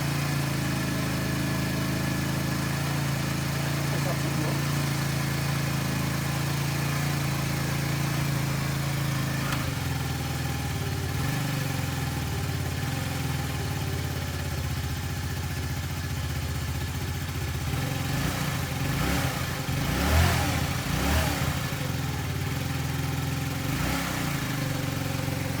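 Cheap used 200-euro scooter engine idling steadily as it warms up after a hard start, a continuous low mechanical drone with light clatter, close by and alone, with a few louder bursts near the end.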